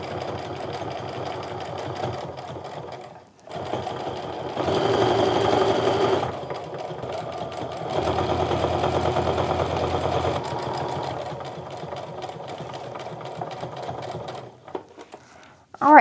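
Sewing machine stitching around a fabric wristlet made from fat eighth scraps, a steady mechanical whir that speeds up and slows in long runs, pausing briefly between passes near the darts.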